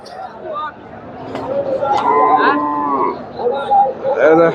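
Cows mooing repeatedly at a busy cattle market in Chandaikona, Sirajganj, with several overlapping calls near and far over a murmur of crowd chatter and talk.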